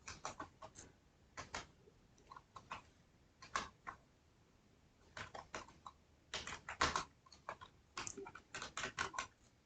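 Quick, light key clicks on a computer keyboard while entering names into an Excel spreadsheet, coming in irregular bursts with short pauses, close and fairly quiet, with no talking.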